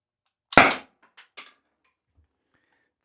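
A sharp, loud single shot from a launcher, likely a toy or air launcher being power-tested, bursts out and decays within a fraction of a second, followed by a couple of faint clicks and then near silence.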